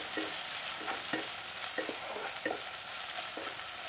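Onions and spices fry in a pan for Bengali chicken kosha, a steady sizzle broken by soft scraping stirs at irregular moments, with no voices.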